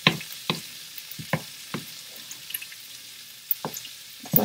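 Taco meat fries in a pan, a soft steady sizzle broken by sharp scraping clicks as a utensil stirs it at uneven intervals.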